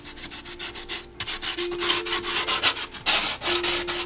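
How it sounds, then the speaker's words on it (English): Steady back-and-forth hand sanding on a painted Honda part, a rhythmic rasping scrub repeated in quick strokes with a brief pause partway through. "your final hand sanding just dresses everything off for the next coat of primer"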